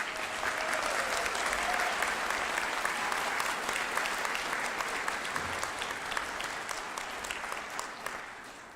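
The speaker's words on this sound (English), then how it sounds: "How about giving yourselves a round of applause?" Graduates applaud at a doctoral hooding ceremony, a dense, steady wash of many hands clapping in a large hall that holds level throughout and tapers slightly at the end.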